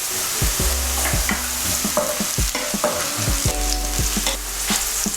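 Red chili powder and turmeric frying in hot ghee with ginger-garlic paste and softened onion for paneer bhurji, stirred by a spoon that scrapes and clacks against the pan in irregular knocks over a steady, close sizzle.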